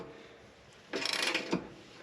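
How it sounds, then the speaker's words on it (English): A wrench turning a 21mm socket on a bolt of a neglected luxury SUV, heard as a short close metallic ratcheting and grinding burst lasting about half a second amid quiet surroundings. "So I have the 21mm socket on the other side, and I'll put the wrench on this side and see if I have luck."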